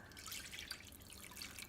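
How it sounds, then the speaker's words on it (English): Water poured into a pot of beef rouladen cooking liquid, a faint, steady trickling splash heard alone at low level. "Then we're going to add 1 1/4 cups of water"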